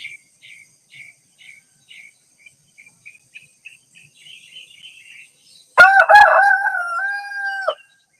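Chickens cluck in a steady run of short, evenly spaced calls, then a loud rooster crows close by, a long harsh cock-a-doodle-doo that ends the clip, on a backyard flock's free day.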